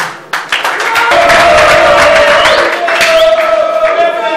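A crowd bursts into clapping that quickly swells into dense, sustained applause, with a few cheers and shouts mixed in.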